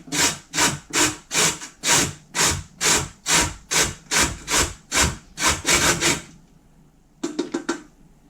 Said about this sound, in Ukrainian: Моркву натираю на тертушці.